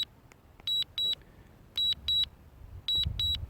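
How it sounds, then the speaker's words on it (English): A Mavic Mini drone controller gives soft paired beeps in three quick sets, high and thin, over faint background hiss. "I get a clicking sound. A minor beeping."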